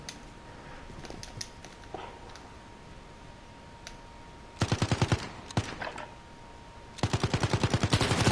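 Uzi bursts from the video game Call of Duty: Modern Warfare 2019, two rapid strings of loud close shots in the second half, after quieter clicks and game sounds with a faint steady tone.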